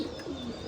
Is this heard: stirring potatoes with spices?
no